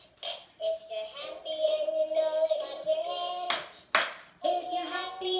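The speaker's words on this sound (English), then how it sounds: "clap your hands" A few sharp hand claps ring out alongside a sung children's song, 'If You're Happy and You Know It', with a steady melody carrying through and the claps landing briefly near the end.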